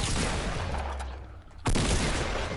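Gunfire in the Fortnite video game, a dense, steady rattle of shots that dips briefly before a loud fresh burst erupts close by and keeps going.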